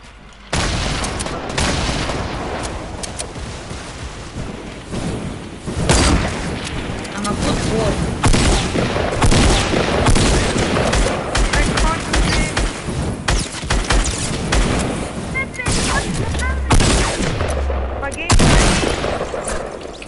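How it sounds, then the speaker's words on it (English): Rapid bursts of gunfire from a Fortnite match rattle on almost without pause, with loud booming shots layered over dense in-game noise. "Who's shooting at me?"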